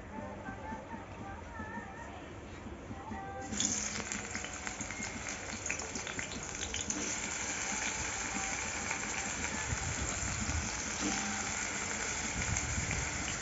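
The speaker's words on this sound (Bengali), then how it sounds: "দেবো সর্ষের তেল দিয়ে, এতে নিম বেগুনটা ভাজবো।" Eggplant slices frying in mustard oil sizzle after dropping into the hot pan, a sudden burst of crackle settling into a steady, moderately quiet spitting hiss.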